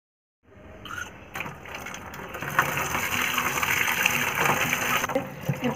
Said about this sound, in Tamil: இப்போ இதை நல்லா கழுவிடலாம் தண்ணி ஊற்றி.